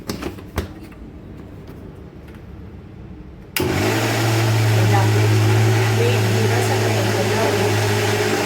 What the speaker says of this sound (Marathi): याला सुद्धा थोडंसं मिक्सरमधून काढूया